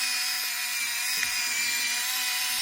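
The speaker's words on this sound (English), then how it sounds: "Power on. And then it will grind on its own." Kitchen-GO rechargeable electric spice grinder running on its own, a steady high-pitched motor whir with a faint grinding rasp, close and continuous, with a low hum dropping out partway.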